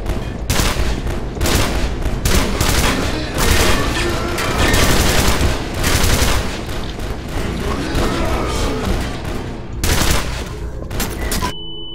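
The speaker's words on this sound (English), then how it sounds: "That was a bomb." Within the video game E.Y.E Divine Cybermancy, a bomb blast and sustained gunfire roar in dense, loud volleys of shots and booms that barely let up, with a brief gap near the end.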